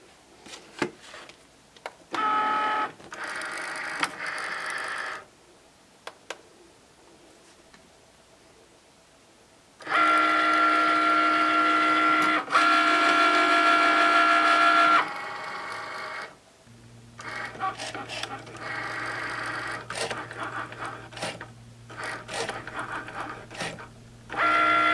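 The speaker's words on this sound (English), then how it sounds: "head to the Cricut machine, and cut our design" A Cricut cutting machine cuts a mosaic iron-on design, with whirring carriage runs and mechanical buzzing in bursts of several seconds, a louder sustained stretch in the middle, and a low steady hum later, close by.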